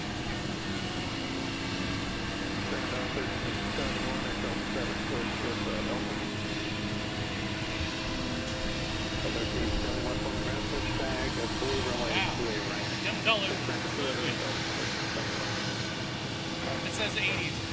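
A CRJ regional jet takes off at Portland International Airport, its broadband engine roar holding steady and loud throughout, with a people talking over it.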